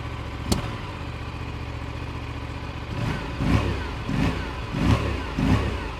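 An Aprilia RS 457 motorcycle engine idles, then revs in four quick throttle blips, each rising and falling sharply; a single sharp click comes early on.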